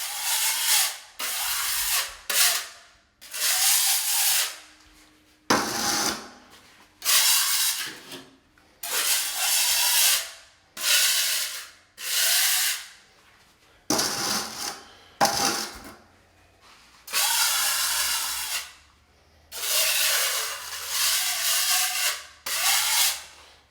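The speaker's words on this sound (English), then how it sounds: "I'm gonna take my putty knife now. Just clean up the extra." A putty knife scrapes excess grout off bathroom tile in repeated long, gritty strokes, each a loud rasping rub lasting a second or two, separated by brief pauses, close up and steady.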